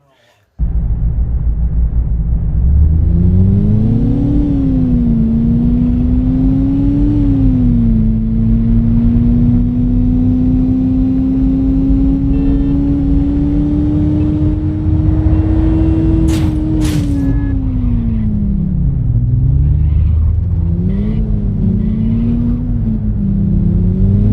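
A car engine in the City Car Driving game hums steadily with rising and falling revs as it accelerates and shifts, loud and continuous for about twenty seconds, with a couple of brief sharp clicks partway through.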